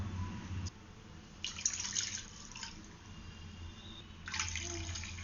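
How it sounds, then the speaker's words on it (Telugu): Milk is poured into a pan on a stove for suji halwa, making faint liquid splashing and trickling in short bursts over a quiet hum, with no voices. "ఇప్పుడు మనం తీసుకున్న పాలు 1కి 3 కప్పులు పోయాలి"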